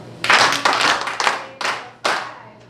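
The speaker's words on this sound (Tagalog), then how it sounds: "Bali, limang palakpak!" An audience at a church presentation claps in unison, five sharp, loud, evenly spaced bursts with no talking over them.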